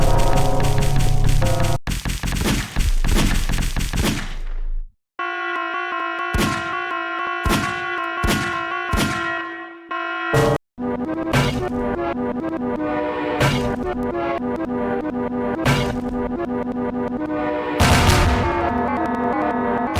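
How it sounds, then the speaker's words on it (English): Harsh synthesized game audio from Doom rebuilt inside a Half-Life 2 mod blares loudly, with buzzy tonal stabs, abrupt cuts and repeated punchy hits standing in for gunfire. "I also added gun firing sounds when you left-click for immersion purposes."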